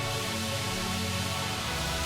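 A sustained Serum synth pad from a preset, brightened with OTT and thinned of low end, holds a thick, even chord without breaks.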